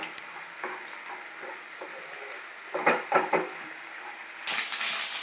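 Vegetables stir-fry in oil in a pan for egg fried rice, giving a steady soft sizzle with a cluster of spatula scrapes and clinks near the middle.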